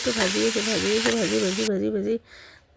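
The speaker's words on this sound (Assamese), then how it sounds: "বিলাহী এনেকৈ চব লগ লাগি আৰু ভাজি আছোঁ ভাজি" Tomatoes fry in a pan for a chutney, giving a steady close sizzle while someone talks over it, and the sound ends abruptly near the close.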